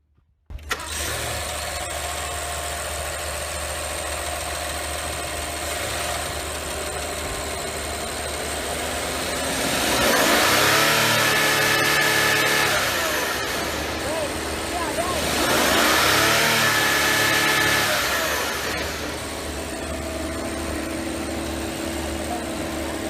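A 2023 Rolls-Royce Cullinan Black Badge with its 563 hp V12 petrol engine idles steadily, then revs up twice, each swell lasting a few seconds before dropping back to a smooth hum, close and loud.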